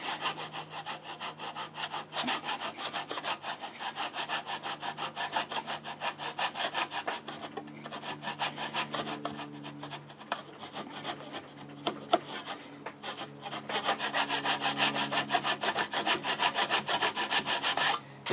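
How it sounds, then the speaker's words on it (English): A hand saw cuts a kerf along a marked line in a piece of wood, with steady back-and-forth rasping strokes in a continuous rhythm, close and clear, with no talking. "I'm just going to keep sawing in it like that until it gets down to that depth that I want"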